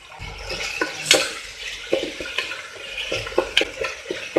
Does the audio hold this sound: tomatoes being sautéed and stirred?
yes